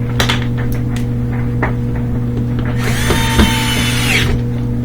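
A power drill drives screws while a Samsung washer door is repaired, giving short whirring bursts near the start and one longer loud run near the end over a steady background hum.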